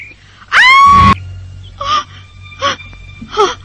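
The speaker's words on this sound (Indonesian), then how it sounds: "Kenapa tiba-tiba kau menjerit dan seperti orang ketakutan?" A woman lets out a loud, sharp scream of fright in an Indonesian radio drama, followed by several shorter gasping, whimpering cries, close and dry.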